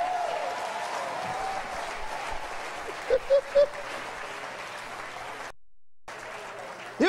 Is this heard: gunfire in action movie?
no